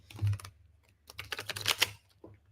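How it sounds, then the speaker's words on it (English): Tarot cards are shuffled in quick, soft clicking riffles, a short burst at the start and a denser flurry in the middle, close and fairly quiet. "One more shuffle."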